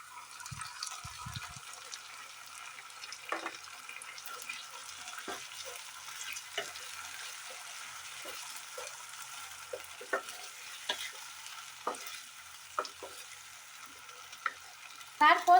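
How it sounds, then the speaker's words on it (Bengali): Sabudana pakoda balls frying in a wok make a steady, quiet sizzle with scattered small pops and crackles and occasional stirring clinks throughout, with a brief low knock near the start. "এবার এগুলোকে আমি কড়াইতে ফ্রাই করব।"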